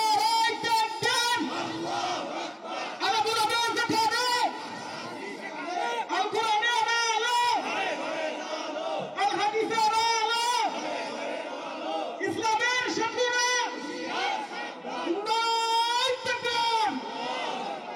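At a religious sermon gathering, a large crowd chants slogans in loud, rhythmic bursts, with roaring shouts that rise and fall in repeated waves.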